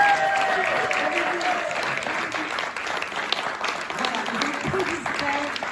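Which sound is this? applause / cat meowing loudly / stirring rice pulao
applause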